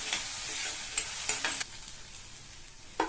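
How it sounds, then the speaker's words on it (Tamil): Onions with dried chillies and curry leaves sauté in a pan under a steady close sizzle, with a few sharp spoon scrapes and stirring clatters breaking through. "கூடவே கொஞ்சம் கறிவேப்பிலையும் சேர்த்துட்டு இந்த வெங்காயத்தை நல்லா வதக்கிக்கணும்"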